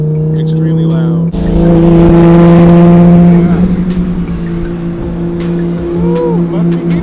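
A loud Lamborghini races past on a supercar rally, its engine revving hard to a howling peak and then fading as the roar of other cars continues. Crowd noise and voices are mixed in throughout.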